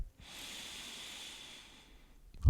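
A slow, deep breath drawn in through the nose during a yoga session, a soft airy hiss that holds steady for about two seconds and then fades, close and quiet with no talking.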